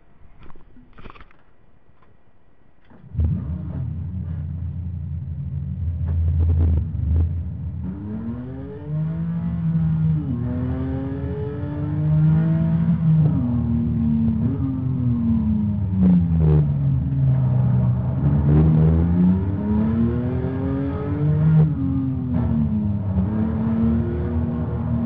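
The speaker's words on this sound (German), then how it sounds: "Porsche 911 auf der grünen Hölle Nordschleife." A Porsche 911 drives on the Nordschleife, its engine note rising and falling steadily through gear changes and corners, loud and close for over twenty seconds with no talk.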